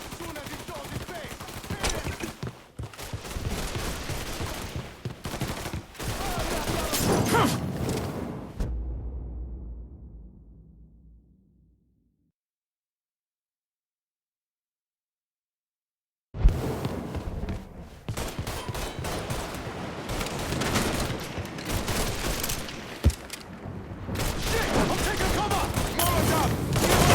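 Heavy, sustained gunfire in Mafia 3 crackles in dense bursts, cuts to several seconds of silence, then resumes just as intensely alongside shouting voices.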